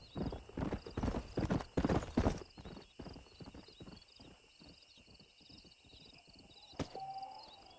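A stallion in the Red Dead Redemption Remaster video game trots with rhythmic, close hoof clip-clops that slow and fade, then gives a short whinny near the end.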